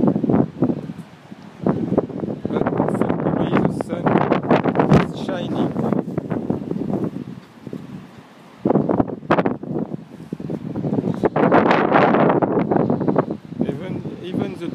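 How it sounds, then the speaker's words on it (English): Gusty wind buffets the microphone on a rooftop in the Essaouira medina, Morocco, in February, a loud rumbling roar that swells and drops in waves. Voices talk over it at times. "A little windy."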